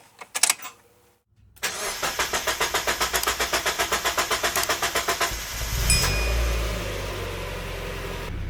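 A Mazda Miata engine cranks with a fast rhythmic starter whir, catches with a rising roar, then settles into a steady idle, heard up close with no talking.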